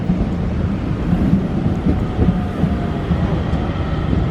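Train pulling into a station in Dublin, a continuous low rumble and rolling clatter heard nearby with some wind buffeting, no voices.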